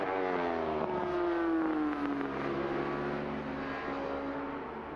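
F1 sidecar racing outfits race at Brands Hatch, their engines screaming at high revs with a rising and falling pitch as they pass. The sound is continuous and fairly distant.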